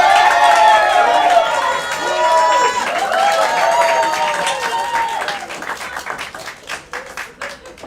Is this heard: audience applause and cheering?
yes